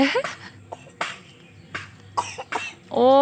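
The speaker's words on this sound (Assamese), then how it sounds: "আমাৰ দেহা কাহ হৈ আছে ন?" Several sharp coughs sound up close, spaced irregularly, with a brief voiced sound at the end.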